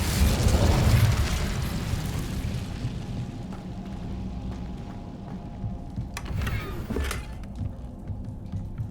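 Incendio fire spell in the Hogwarts Legacy video game produces a loud roaring, crackling whoosh of flame that fades into a lingering rumble, with a couple of sharper bursts near the end; no voices.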